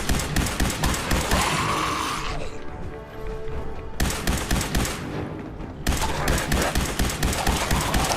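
Rapid automatic gunfire in Fallout 4, loud bursts of dense repeated shots that stop briefly and then resume, with a short lull of fainter shooting in between.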